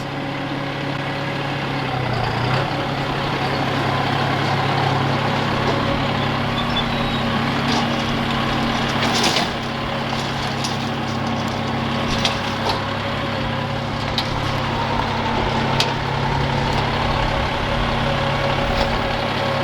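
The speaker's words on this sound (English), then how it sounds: "So that is a John Deere hydrostatic tractor. It's a 5065, and it's an E" A John Deere 5065E hydrostatic tractor engine runs steadily nearby with a continuous low diesel drone, plus a few sharp clanks and knocks over it; no talking is heard.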